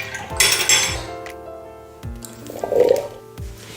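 Canned chickpeas being drained in a kitchen, with clinks of metal and dishes, dripping and sloshing liquid, and a brief burst of pouring, all close and intermittent with no talking.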